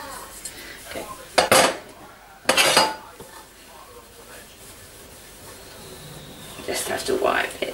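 A spoon clinks and scrapes against a casserole dish while ingredients are mixed for coconut cookies: two loud bursts of clattering early on, then quieter rustling and more scraping toward the end, with a voice talking in between.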